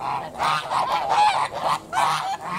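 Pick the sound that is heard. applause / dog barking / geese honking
geese honking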